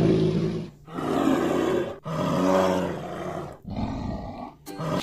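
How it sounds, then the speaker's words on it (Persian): A bear roars in three long, loud, rough bursts separated by brief pauses, close and alone with no talk. "صدایش بشنوید، صدای خرسه."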